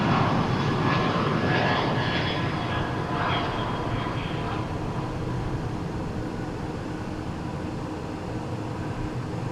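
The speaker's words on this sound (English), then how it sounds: "Delta Airlines landing here." A Delta Airlines plane landing at Dallas Fort Worth airport, a steady loud broadband jet roar with shifting whine tones in the first half, then a smoother, slightly fading rumble.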